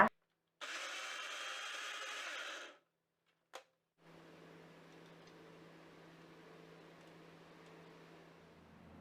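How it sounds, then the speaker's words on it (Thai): An electric blender whirs loudly for about two seconds grinding a dipping sauce, then stops with a brief knock, followed by a quieter steady motor hum. "จะใช้เครื่องปั่นปั่นให้ละเอียดเลยนะคะ"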